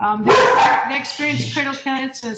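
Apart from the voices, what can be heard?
dogs barking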